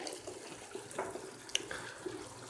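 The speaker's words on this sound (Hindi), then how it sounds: "बस इतना ही पानी डालना काफ़ी है" Water is poured into a cooking pot of potatoes and tomatoes for spiced pickle-style potatoes, a soft, faint splashing with a few small clinks and drips, heard alone without talk.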